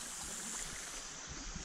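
Fast-running stream water over slippery rocks on rural property, a steady rushing wash close by with faint gurgles, continuous and unbroken with no voices.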